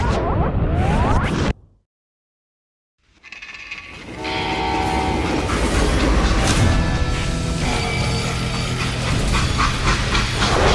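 Freight train in the video game Call of Juarez: Gunslinger, a loud, steady rolling rumble with clattering wagons and a whistle-like tone, after a brief silent gap.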